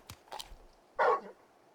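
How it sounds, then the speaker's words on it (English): A dog in the Final Fantasy XVI video game gives a single short, fairly loud bark after a few faint, scattered sounds, with quiet background between. "You're just a big puppy"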